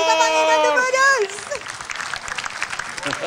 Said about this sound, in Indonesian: Yang keras tepuk tangannya.